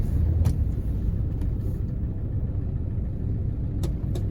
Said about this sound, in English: And we'll show you a reverse here. Nice and smooth.